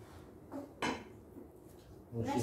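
Plates and dishes clink at a family iftar meal, a few sharp close clatters of ceramic and cutlery at irregular moments, with a faint voice in the background.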